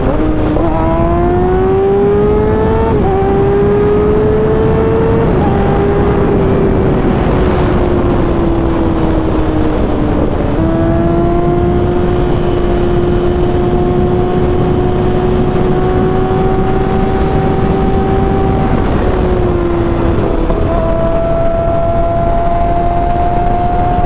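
A Kawasaki ZX6R motorcycle engine revs hard in second gear, its whine climbing steadily with brief dips at gear changes, loud and continuous, heard from the rider's position with wind rush underneath.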